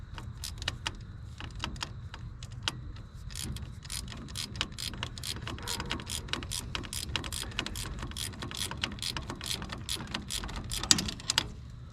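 A ratchet wrench tightens a 7/16 bolt on a Mahindra 4540 tractor's solenoid mount, giving rapid, quick-fire metallic clicks in bursts over a low mechanical background, close and fairly quiet.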